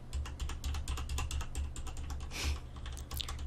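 Computer keyboard keys clatter in steady, quick bursts of close typing as a whispery ASMR trigger sound, with a low hum running underneath and no talking.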